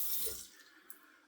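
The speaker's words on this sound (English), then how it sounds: "I'm gonna rinse these components here in hot water." Hot tap water runs over razor components in a sink, a soft steady rush that fades quickly, followed by a faint small knock.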